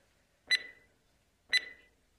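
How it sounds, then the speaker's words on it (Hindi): A timer gives two short, bright electronic beeps about one second apart, fairly quiet against near silence. "टाइमर भी चलना चालू हो गया है हमारा"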